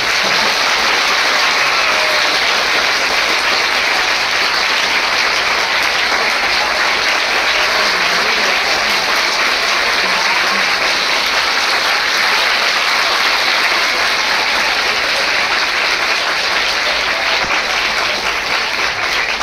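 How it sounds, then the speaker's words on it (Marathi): An audience at a commemoration for Nana alias Jagannath Shankarsheth's 160th death anniversary applauds loudly and continuously, a dense, even clapping that holds steady throughout without pause. "आता सगळ्यात जास्त टाळ्या पडल्या पाहिजेत जोरदार."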